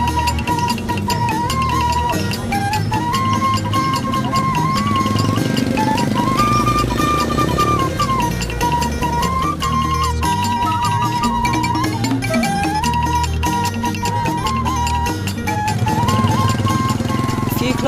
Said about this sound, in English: so now me and Eddie have to go on a motorbike to get to this next village